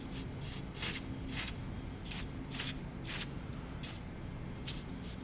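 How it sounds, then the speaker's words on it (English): Aerosol spray can hissing onto a concrete fire feature in a series of short quick bursts, about eight sprays spaced roughly half a second apart, close and fairly loud over a low background rumble. "we're going to go ahead and just do a few quick sprays"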